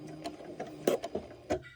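Janome sewing machine finishing a blind hem and tying off with a lock stitch, giving a few quiet, close mechanical ticks and short whirs in an uneven rhythm.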